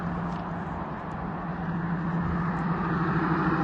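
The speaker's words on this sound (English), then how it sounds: "This truck is passing his car next to me" A truck passes a car on the road nearby, giving a steady broadband roar of traffic that swells slightly toward the end, with no talk.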